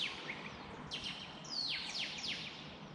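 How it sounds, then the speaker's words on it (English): Birds chirp outside a window, a few faint high tweets and short calls over a steady, fairly loud background hiss. "you're probably gonna hear a lot of weird bird sounds."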